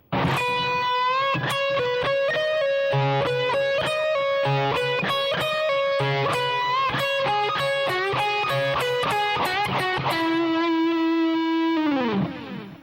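Distorted electric guitar plays a full solo phrase from a song, with rapid picked notes, bends and sustained held tones, loud and close, ending on a long note that dips away, with no talking.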